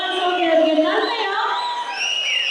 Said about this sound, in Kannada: ಜೋರಾದ ಚಪ್ಪಾಳೆಯೊಂದಿಗೆ ಕುಮಾರಸ್ವಾಮಿ ಅವರಿಗೆ ನನ್ನೆಯ